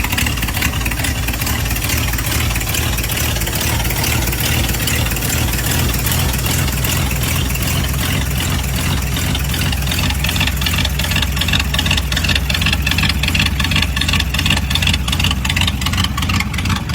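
A 1939 Ford Deluxe Sedan hot rod, built in traditional style, idles steadily with a deep, continuous engine rumble, close and loud, with no voices over it for the full stretch.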